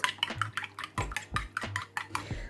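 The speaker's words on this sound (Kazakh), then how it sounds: "Енді екі жұмыртқамызды жарып, үстіне шай қасықтың ұшымен тұзымызды салып, жұмыртқаларымызды жақсылап араластырып аламыз." Eggs with a pinch of salt beaten in a bowl, a rhythmic run of clinking and tapping strokes against the bowl, close and fairly loud, with no voices.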